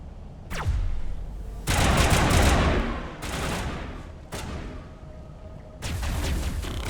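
Gunfire in the video game Mass Effect, in repeated loud bursts of rapid shots and booming impacts separated by short lulls, with a sharp crack near the start and a heavy volley in the middle.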